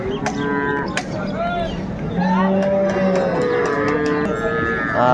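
Cows and calves at Ambari livestock market in Dinajpur give several long, loud moos close by, overlapping one another, with market crowd noise and brief voices in the background.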